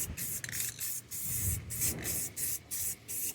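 A spray gun hisses paint onto a truck bumper in repeated short bursts with brief gaps between, close and fairly steady, with no talking.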